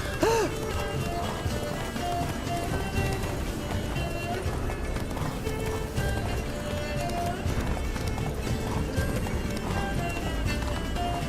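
Hoofbeats of Roach, a horse in The Witcher 3, clip-clop at a steady gallop across the whole stretch, under dense game music and ambience, with a brief whinny near the start.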